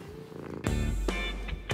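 A pet cat purring up close, a low rumbling purr that swells into a louder steady stretch before fading, with no voices.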